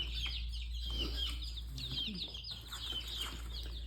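Soft, busy chirping and peeping from four-week-old chicks in a brooder, with a constant low hum underneath and a few brief bursts of noise.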